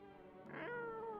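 A cat meows once in the horror video game No, I'm Not a Human, a clear drawn-out, rising-then-falling meow heard alone and close.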